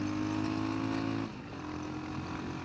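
A motorcycle engine drones at a steady pitch, then drops abruptly as a gear shift changes the tone, continuing at a lower rumble, heard close without talking.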